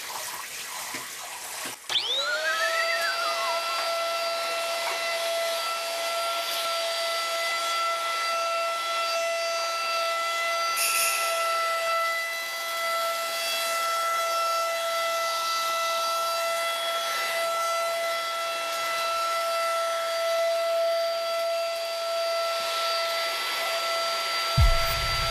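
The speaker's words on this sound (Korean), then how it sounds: "우리 언니 청소기 할게." A household vacuum cleaner switches on with a rising whine during indoor home cleaning, then runs steadily and loudly close by for more than twenty seconds with little change.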